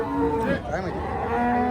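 Cattle at the Ghodegaon cow market: a cow moos loudly and close, a drawn-out low call that fills the moment over a busy outdoor background.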